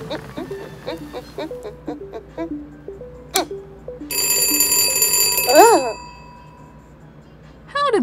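A cartoon alarm clock rings in a burst of dense, metallic bell tones lasting under two seconds, amid short animated sound effects and springy boings.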